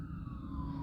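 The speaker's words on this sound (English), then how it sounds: "the ambulance rides by. Two of them, actually." An ambulance siren passes on the street, its wailing tone sliding steadily downward in pitch over heavy low traffic rumble, loud and continuous for the brief moment, with no talking.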